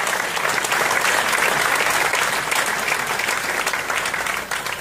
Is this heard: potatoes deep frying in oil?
no